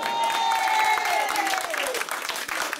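Loud audience applause for a singer performing songs, dense steady clapping from a crowd with a sustained tone gliding down beneath it, fading slightly toward the end.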